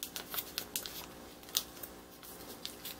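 Paper is folded along its creases into V-shaped grooves to make a modular origami unit, giving soft, faint crinkles and sharp creasing snaps scattered irregularly across a few quiet seconds, close by.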